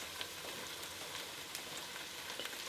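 Onions, carrot, garlic and herbs fry in a pan over medium to high heat for a Bolognese base, giving a faint, steady crackling sizzle with no one talking.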